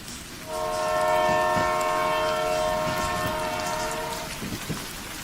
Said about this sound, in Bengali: ইতিমধ্যেই ট্রেন এসে থামল